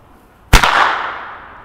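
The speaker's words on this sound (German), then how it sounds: "mache ich jetzt nochmal zwei weiße Böller" A white Weco Pyrocracker firecracker with grey fuse bursts in one sharp, loud bang, followed by a short fading crackle and echo outdoors.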